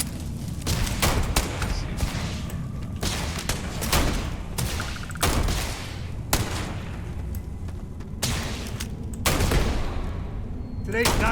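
A powerful turret fires in the sci-fi shooter Starfield, loud bursts of rapid gunfire and heavy booming shots recurring throughout, with a voice talking over part of the action.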